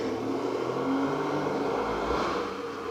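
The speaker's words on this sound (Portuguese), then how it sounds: "Moto passando." A motorcycle passes by outside a house, its engine note swelling and fading in a steady mid-volume drone over about three seconds, heard alone without talk.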